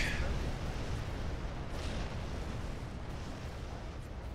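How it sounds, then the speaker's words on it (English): In the ICBM Escalation strategy game, a city is bombed, giving a steady, muffled low rumble of distant explosions that lasts the whole stretch, with a faint voice talking under it. "A city has been bombed."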